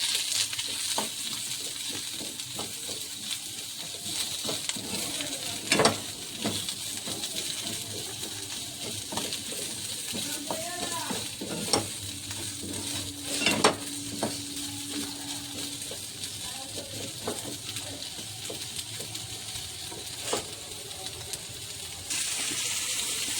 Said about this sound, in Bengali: পেঁয়াজটা একটু হালকা ভাজা ভাজা হোক